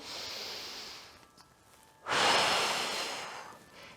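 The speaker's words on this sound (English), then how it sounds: "So when you exhale out, I want you to really push the breath out." Deep breathing during a guided relaxation exercise: a soft drawn-out breath, a pause, then a louder, forceful exhale pushed out near the microphone, trailing off at the end.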